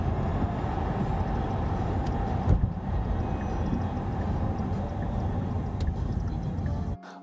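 A Qiantu K50 electric sports car accelerates through an underpass in Shanghai, a steady low rumble of road and wind noise filling the enclosed space, fairly loud and even, with no engine roar and no voices.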